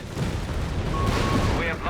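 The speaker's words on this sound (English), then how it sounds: "hitting hits from the Marder. Gun sighted there. Second shot misses." A Marder tank destroyer's gun fires in Company of Heroes 3 amid a rumbling wartime battle din, with a caster's voice running over it.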